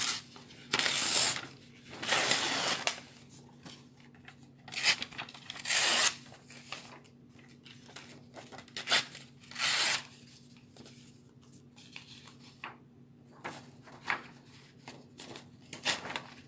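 Paper torn by hand into pieces for an expressive arts face collage: repeated rough ripping bursts, each a second or so long, spaced irregularly and heard close up, with softer rustling between them and no speech.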